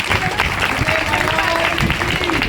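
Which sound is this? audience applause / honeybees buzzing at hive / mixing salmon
audience applause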